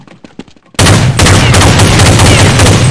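On the de_chateau map of Counter-Strike 1.6, a brief quiet stretch of faint clicks gives way to a sudden, very loud burst of sustained automatic gunfire that rattles continuously to the end.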